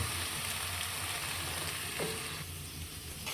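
Broth poured into a pan of sizzling spices with lau kumro bori (bottle gourd and lentil dumplings) for a rohu fish curry, giving a steady close frying hiss with soft bubbling and stirring throughout.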